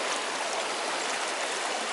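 A stream rushing around a ford on a combe walk, a steady, close, full-bodied wash of flowing water that holds at an even level from start to finish, with no voices over it.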